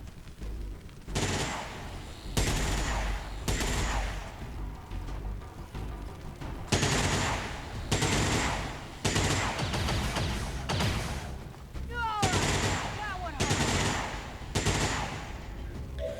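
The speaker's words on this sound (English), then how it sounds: "There's heavy fire in this zone." Heavy gunfire during a combat mission in the XCOM 2 video game: loud, sustained bursts of automatic fire and booming shots, pulsing in waves with brief lulls between volleys.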